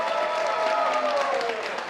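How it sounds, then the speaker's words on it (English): Applause from a crowd at a televised congressional district debate, a brief steady burst of clapping with a tonal voice-like hum running through it. "please hold too much loud applause"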